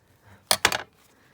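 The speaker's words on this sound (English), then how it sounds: "I'm obviously really bashing the floor" Two sharp, loud knocks in quick succession, followed by a short scrape, like something heavy striking a hard floor nearby.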